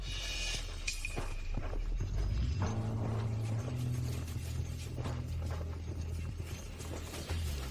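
A racehorse gallops past at speed, hooves drumming under a dense, loud crowd roar and general racetrack noise that fills the whole stretch.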